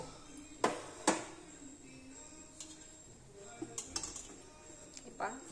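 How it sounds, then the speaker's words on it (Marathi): A kitchen gas stove's igniter being lit before cooking a chana dal curry: a few sharp, separate clicks spaced irregularly, fairly close, with quieter ticks between them. "गॅस पेटवून घेऊया।"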